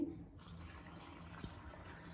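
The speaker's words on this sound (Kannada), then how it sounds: "ಕಾಳು ಮತ್ತು ತರಕಾರಿ ಮುಳುಗೋವಷ್ಟು ನೀರು ಹಾಕಿ" Water is poured into a cooking pot over lentils and vegetables for a field bean and pea sambar, a soft, steady, quiet splashing wash that runs for a couple of seconds.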